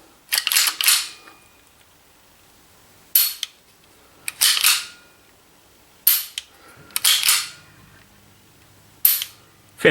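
A Feinwerkbau AW93 air pistol fires several sharp, close shots in an irregular sequence, each a crisp snap followed by a brief mechanical click or rattle, separated by quiet pauses; no talking.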